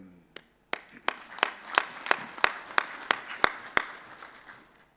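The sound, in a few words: audience applause at closing session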